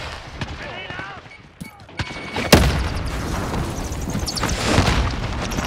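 A flashbang grenade and bursts of gunfire in a Call of Duty match, with sharp cracks and a loud bang followed by a dense crackle of shots. A voice is faintly heard near the start.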